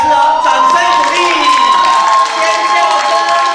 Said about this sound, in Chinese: 再一次掌声鼓励，